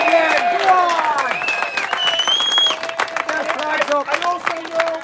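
A protest crowd claps and cheers loudly for a few seconds while voices shout and whistles or calls rise over the din, the applause close and continuous.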